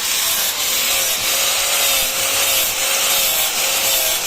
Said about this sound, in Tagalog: Sander yan, sander, hindi grinder.